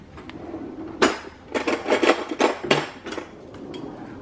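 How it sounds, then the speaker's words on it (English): Metal cutlery rattles and clinks close by as a spoon is pulled out of a drawer, a burst of jangling knocks lasting a couple of seconds with no talk. "I'm just gonna get a spoon out."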